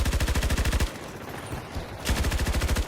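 Automatic gunfire in Battlefield 2042 during a stadium Rush defence match: two loud bursts of rapid rhythmic shots, separated by a brief quieter gap with scattered distant game noise.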